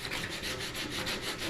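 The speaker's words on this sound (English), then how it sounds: "So I just do some sanding." Sandpaper rubs steadily over surfboard fiberglass around a damaged patch on a glass repair, a close, loud, rhythmic rasping in quick back-and-forth strokes with no voices.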